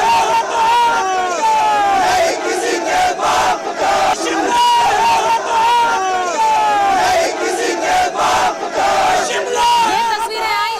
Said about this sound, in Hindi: देखिए कैसे शिमला में हजारों की भीड़ चलती चली आ रही है